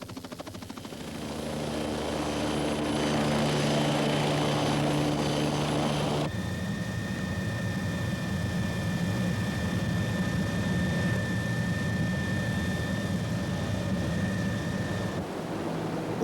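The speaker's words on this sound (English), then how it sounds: "Every week, the helicopter of the Canadian Coast Guards drops off one of the keepers starting duty and" A Canadian Coast Guard helicopter at a remote lighthouse produces a steady, loud engine and rotor roar that holds throughout, with a shift in its whine partway through, and no one speaking.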